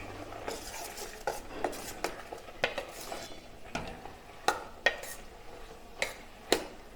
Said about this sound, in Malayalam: ഇനി നമുക്ക് നന്നായിട്ടൊന്ന് മിക്സ് ചെയ്യാം.